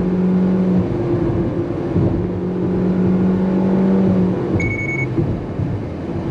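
A 2019 second-generation Nissan Versa accelerates from a standstill at full throttle, its engine droning loud and close inside the cabin with a steady rising whine, holding below 5,500 RPM, and no one speaking.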